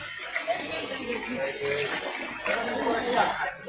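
Fresh water flows steadily at the forest source of the Bagathi River in Thogoto Forest. The continuous rushing sits close by and runs under faint background voices.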